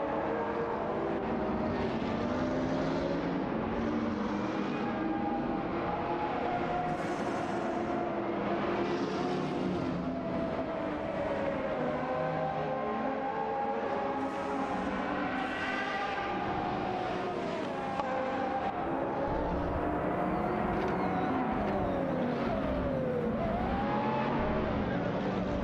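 Race cars in a racing video game roar and whine continuously, engine pitches rising and falling as several cars jostle for position, loud and close throughout.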